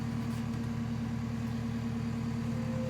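A skid steer engine idles steadily nearby with a constant low drone and faint whine, running without a break while a Volkswagen Beetle body is lifted off during a restoration.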